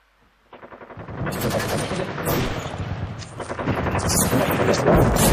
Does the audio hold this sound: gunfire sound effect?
yes